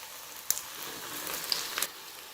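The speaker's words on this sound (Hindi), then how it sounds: "अब जो बाकी के रोल हैं उनको भी मैं फ्राई कर लेती हूँ।" Chicken bread rolls frying in hot oil, a soft, steady sizzle with a few faint pops and crackles, quiet and close with no talking.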